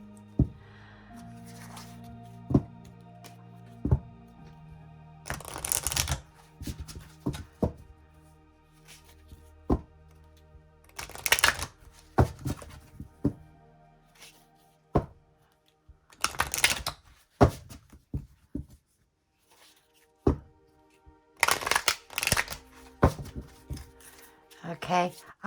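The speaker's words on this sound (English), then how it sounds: "I'm going to shuffle them and choose them at random for my house placements" Tarot cards being shuffled in bursts of crisp riffling and slapping, loud and close, separated by quieter handling clicks and taps, with a voice talking at times.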